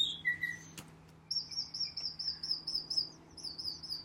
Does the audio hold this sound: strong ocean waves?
no